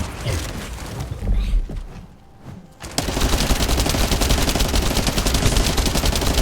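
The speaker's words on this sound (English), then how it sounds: "Luckily for me, my machine gun's dope" Machine gun fire in The First Descendant: a rapid, continuous burst of loud automatic shots after a brief quieter lull, with heavy rolling gunfire beforehand.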